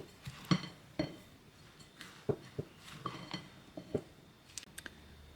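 Almonds, cocoa, icing sugar, orange zest, Chinese five spice and salt stirred together in a bowl for Swiss Brunsli Christmas cookies, with sharp clinks and taps of a utensil against the bowl at an uneven rhythm, close and fairly quiet, without talk.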